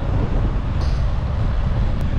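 Wind buffets the microphone with a low, steady rumble while cycling along a quiet country road in Lincolnshire, England.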